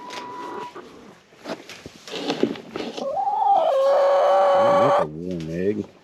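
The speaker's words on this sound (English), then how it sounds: "Oh, we got a chicken right here." A hen in a backyard coop clucks and crows in a drawn-out rising call, close and loud, followed by warbling clucks, with a person talking softly just before.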